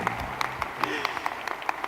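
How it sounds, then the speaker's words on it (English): Applause from an audience at the Snowflake World Tour tech conference in Bangalore, a short burst of dense, steady clapping with a voice talking over it. "Please give them all a big round of applause."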